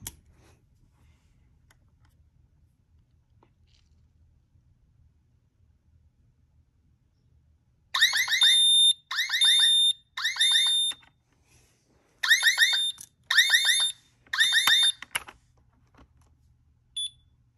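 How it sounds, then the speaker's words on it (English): A fire alarm sounds on an Ademco 6148 security panel after a long silence: loud, shrill electronic beeps come in two groups of three, with a short pause between the groups. "Let's do a fire alarm."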